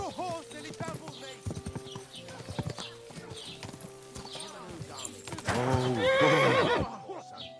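Hooves clip-clop in a fast gallop alongside loud horse neighs and whinnies in the medieval video game Kingdom Come Deliverance 2, with shouting voices over the commotion and a loud burst of hoofbeats and whinnying near the end.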